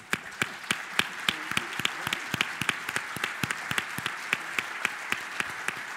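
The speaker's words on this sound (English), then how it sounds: "Let's just give him one more round of applause" An audience at a morning keynote at a state policy conference claps in a loud, sustained round of applause, with sharp individual claps standing out from the crowd and a little talk underneath.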